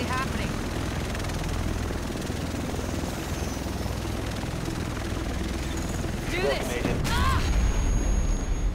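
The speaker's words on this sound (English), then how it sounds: "The rest of us should be in this chopper." A helicopter in the video game Tom Clancy's The Division, a loud steady rotor thrum running throughout with bursts of gunfire and a boom near the end, while voices talk over it.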